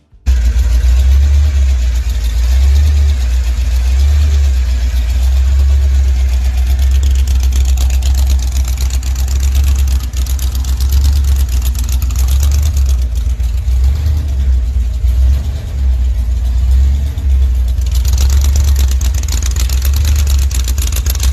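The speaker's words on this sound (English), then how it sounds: "this 61 Bel Air 2-door is powered by a professionally built 327 engine, topped with a BDS blower" A 1961 Chevrolet Bel Air two-door idles with a professionally built 327 V8 topped by a BDS blower, a loud, steady, rumbling idle that runs continuously and close up with no talk.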